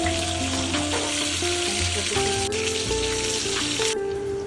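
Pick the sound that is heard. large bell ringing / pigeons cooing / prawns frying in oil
prawns frying in oil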